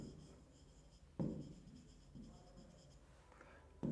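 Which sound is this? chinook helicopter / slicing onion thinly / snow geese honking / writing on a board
writing on a board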